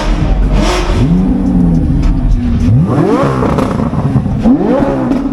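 A Lamborghini engine revs repeatedly, rising and falling in pitch in three or four bursts, loud and close, with a rough crackling exhaust and pops.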